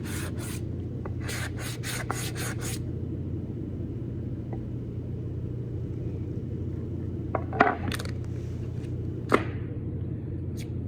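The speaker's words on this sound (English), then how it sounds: "it makes it a lot easier to sand" Sandpaper on a block rubs across a wooden cutting board in quick bursts of strokes, then a pause and scattered scrapes and taps, over a steady low background hum.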